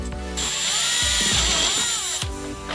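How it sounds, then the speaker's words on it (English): A power drill whines steadily at high speed for about two seconds, its pitch dipping as it bites into a plastic Fisher-Price toy, then spinning down. "So right there is where we're going to drill."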